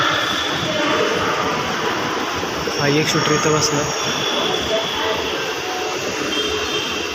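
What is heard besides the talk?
metro train at Pune railway station metro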